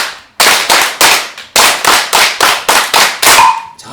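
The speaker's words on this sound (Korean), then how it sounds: "자, 337 박수 한번 하고 337 사바 박수 한번 치겠습니다." An audience claps in the Korean 3-3-7 rhythm during a lively Buddhist lecture on the Heart Sutra: loud, sharp, close group claps in tight bursts of three, three and seven, then one last clap.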